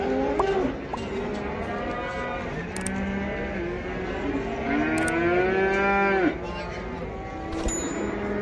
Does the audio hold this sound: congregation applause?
no